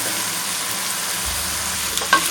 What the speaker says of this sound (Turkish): Koydum patatesini de kavuruyorum.